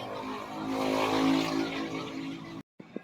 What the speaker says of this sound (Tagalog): Bali gagamit ako ng hot air. 400 ang lakas.